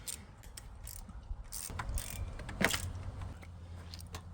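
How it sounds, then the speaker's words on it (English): Swivel ratchet on a 3/8 extension working spark plugs out of a Honda Fit GD3, giving brief clicking ratchet bursts and metallic clacks at close range, with no talking. "So for this I'm just using a swivel ratchet with a 3/8 extension"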